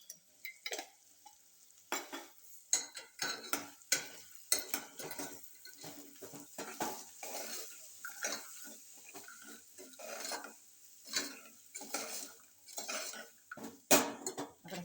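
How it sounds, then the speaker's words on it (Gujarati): Metal utensils scrape and clatter against a pan in irregular bursts of stirring vegetables with garam masala, with a light sizzle beneath, close and fairly loud. "શાકને બે મિનિટ માટે સાતરવા દેવાનું છે"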